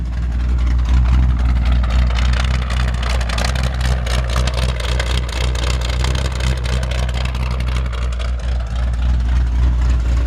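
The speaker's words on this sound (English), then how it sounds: "I'm gonna leave the engine running so you can hear it." A 1948 Ford F1 truck engine idles with a too-small exhaust, giving a steady, loud, low rumble that holds evenly throughout with no voices.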